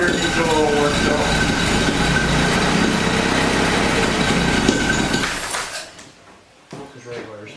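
A small engine with a carburetor in need of adjustment runs steadily and loudly with a rough, even drone, then cuts off abruptly near the end, leaving quiet background sounds.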